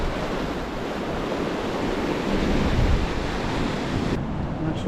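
Ocean surf and gusting wind at a sea cliff, a dense continuous wash of breaking waves with wind buffeting the microphone, loud and steady with a brief swell in the middle.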